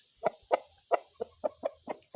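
Newly hatched black chick, out of the egg on 21 March, gives a steady run of eight sharp, close peeps spaced about a quarter second apart, alone without talk.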